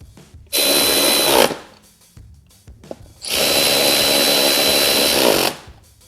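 Power tool, likely an impact gun, tightening wheel lug nuts after a brake caliper is fitted, in two long loud steady bursts of about a second and two seconds with a short quiet gap between.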